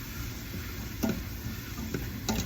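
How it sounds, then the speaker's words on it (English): Onions and chives stirred in a hot pan, a soft continuous sizzle broken by three brief spoon scrapes, quiet and close with no voices. "And just give this a stir."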